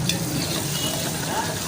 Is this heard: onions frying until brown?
yes